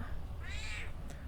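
A single short cat meow, rising and falling, heard faintly over a low background hum.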